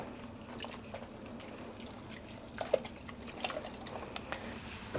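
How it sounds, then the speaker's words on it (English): Yarn is dunked a few times in a tub of dye rinse water, producing soft, close sloshing, squishing and dripping sounds that run continuously at low volume with a few brief splashy accents. "Just dunking it a few times, making sure there aren't any leftover dye anywhere."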